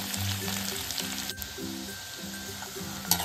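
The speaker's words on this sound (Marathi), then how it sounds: "मस्त असा लसूण आता तेलावरती परतून घेऊयात" Plenty of finely chopped peeled garlic fries in hot oil, a steady close crackling sizzle with a brief stirring scrape midway, no voices.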